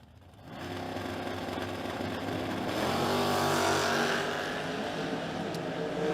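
Engines at a drag race between a 1969 first-generation Camaro and a notchback Mustang, rising into a loud sustained roar and holding steady as the cars accelerate down the strip, heard from a distance with no voices.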